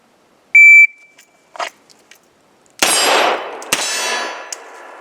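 A shot timer beeps, then two Beretta M9A3 pistol shots ring out about a second apart, each followed by a sharp metallic clang of steel targets and a lingering echo.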